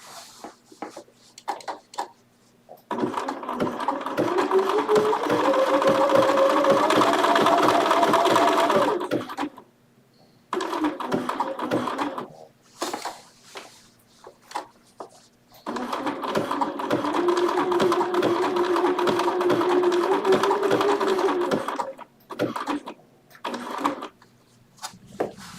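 A Bernina sewing machine stitching an applique stitch, running in two long steady whirring bursts with a rising motor hum, separated by brief handling clicks and quiet pauses, close and fairly loud, with no one talking.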